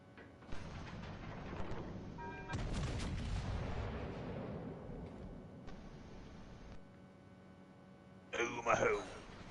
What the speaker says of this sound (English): Omaha shooting AP at me.